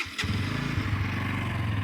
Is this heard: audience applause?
no